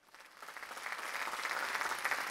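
Small group clapping during a fan-made quiz game, starting faint and swelling into a steady patter of hands, soft and fairly close, with no talk over it.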